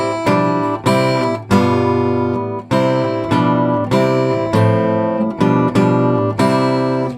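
A classical guitar plays the hymn Be Still My Soul in a steady series of strummed and plucked chords, each struck with the same even force, close and clear with no talking over it.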